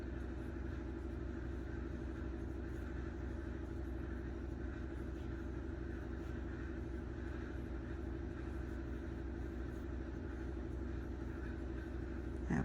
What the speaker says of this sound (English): The washer and dryer are running.